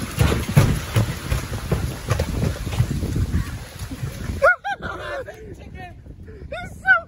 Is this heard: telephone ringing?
no